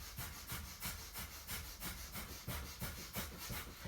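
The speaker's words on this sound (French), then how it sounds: "On va rajouter sur ce shaking une respiration du feu." Rapid, short, forceful breaths of a fire-breathing exercise, with active inhales and exhales repeating about every quarter second in an even rhythm, close and fairly soft.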